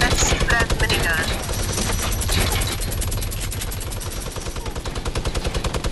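A minigun in a video game fires a rapid, continuous stream of shots at close range, loud and sustained throughout, with other gunfire mixed in.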